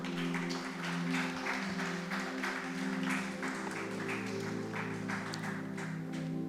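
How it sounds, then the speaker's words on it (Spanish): A church congregation claps for the Lord during a sermon, a soft, fairly distant spread of applause running steadily under sustained organ or keyboard chords. "¿Alguien le da un aplauso al Señor, por favor?"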